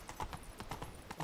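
Horse hooves clip-clopping in the Witcher 3 video game, a quick regular rhythm of crisp hoof strikes, close and alone.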